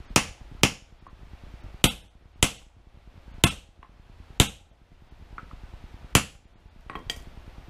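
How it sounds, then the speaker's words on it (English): Ball peen hammer striking a workbench, roughly eight sharp separate metallic knocks spread unevenly over several seconds, loud and close with quick decays and quiet room tone between. "This is a ball peen hammer."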